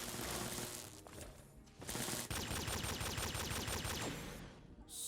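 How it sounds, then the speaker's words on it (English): Video game gunfire rings out in a ruined building, with rapid automatic bursts crackling in long rattling volleys and a brief pause between them, loud and close with no voices. "we hear the sounds of gunfire coming from the southwest"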